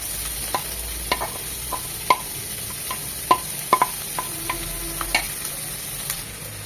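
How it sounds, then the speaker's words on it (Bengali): Chopped carrot and shredded chicken stirred and fried in a pan with onion and garlic, a steady close sizzle broken by repeated sharp spatula scrapes and taps against the pan, no voices. "গাজর কুচি আর চিকেনটাকে 1-2 মিনিট ভেজে নেব"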